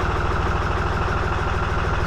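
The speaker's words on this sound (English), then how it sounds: "it's got a Russell Newbury engine in it" A Russell Newbury engine aboard a twin narrowboat thuds along at a steady idle, its low, rapid, even pulses close and continuous throughout.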